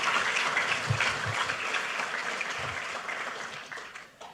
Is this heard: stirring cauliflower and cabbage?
no